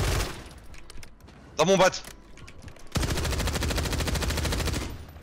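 Bursts of automatic gunfire in the Warzone battle game, a short volley early on and then a long, steady rattle of rapid shots, loud and close, with someone speaking French over parts of it.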